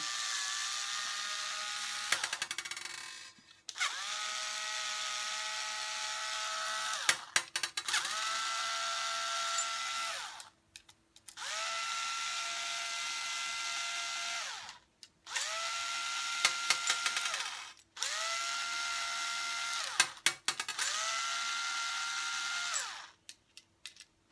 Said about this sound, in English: I've got a little screwdriver thing which makes it nice and quick and easy.